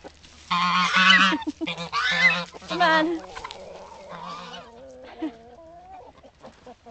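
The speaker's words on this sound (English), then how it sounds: "Oh, here come the geese again." A flock of geese honking loudly and close, repeated harsh calls in bursts that thin out toward the end, while a person speaks briefly near feeding time at their summer quarters.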